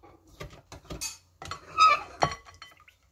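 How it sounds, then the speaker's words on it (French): A wooden spoon scraping and stirring thick placali in a pot, a string of close knocks, scrapes and short clinks in an uneven rhythm, with nothing else in the background. "racler le placali qui est autour de la cuillère en bois. Pour mieux mélanger."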